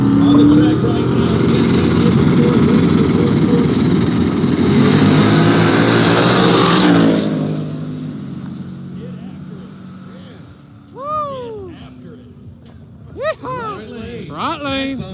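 Drag racing cars on a no-prep track launch with a loud, rising engine roar that fades into the distance, followed by fainter engine revs and chirps while an announcer talks.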